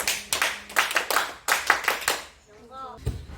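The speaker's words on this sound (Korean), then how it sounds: "우리 영서에게 칭찬의 박수를" Children in an elementary school physical education class clap in praise after a classmate's presentation, a few bursts of brisk rhythmic hand claps followed by a short excited voice.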